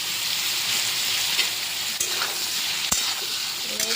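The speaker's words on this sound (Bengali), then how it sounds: "এবার একটু নেড়ে চেড়ে নেব" Prawns and vegetable stalks with turmeric and salt sizzle loudly in a frying pan for a mixed prawn dish, under a constant hiss broken by a few spatula scrapes and knocks.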